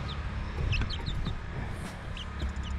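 A flock of chickens clucks steadily, with several birds calling close by in overlapping short phrases over a constant barnyard rustle.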